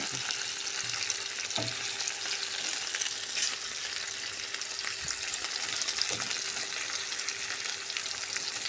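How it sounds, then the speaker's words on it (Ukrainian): Onions sizzle steadily in a hot frying pan, a constant crackling hiss with a few soft clicks of stirring. "я смажу цибулю, ну дуже смачно пахне"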